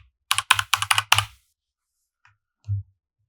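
A short burst of about six quick keystrokes on a computer keyboard as a variable name is typed while building an LED dimmer program, then silence with a single faint click and one soft thump.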